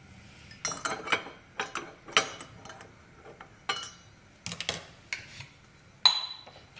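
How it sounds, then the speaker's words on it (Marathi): Clattering metal knocks and clinks as a metal pot is set down on a gas stove, several sharp bursts spread across the moment, close and fairly loud. "इथं पातेले गॅसवर ठेवलेलं आहे."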